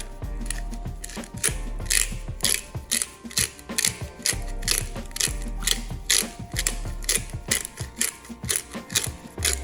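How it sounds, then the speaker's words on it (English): A hand pepper grinder cracks black peppercorns over vegetables in a kitchen, giving a steady run of close, dry ratcheting clicks in rapid bursts, with no talking. "We're gonna grind some black pepper"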